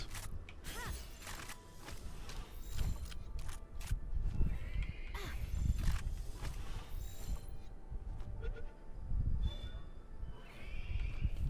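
Horse creature in the video game Palworld neighing and whinnying several times over rumbling game ambience, with hoof clip-clop and creaks between calls, loud and close.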